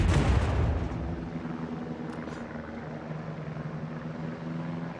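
A battleship's main guns firing in a naval video game, USS Minnesota, with one heavy boom at the start trailing off into a long rumbling decay over a steady low engine drone.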